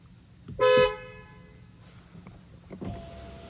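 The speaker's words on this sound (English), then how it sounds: "We've already heard the Octavia horn, but let's do it again." A Škoda Octavia 1.5 TSI 110 kW sounds its car horn once, a short loud honk, followed by quieter in-car clicks and mechanical noises.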